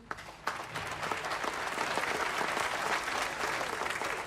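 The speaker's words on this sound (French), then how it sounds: "applaudissons tous les militaires de ce pays." An audience at a Christmas concert breaks into applause for the military, a sharp start swelling into dense, lively clapping from a large crowd that stays full and steady to the end.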